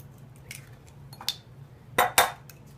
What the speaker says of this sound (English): So we're going to take 2 eggs. We're going to crack those in there.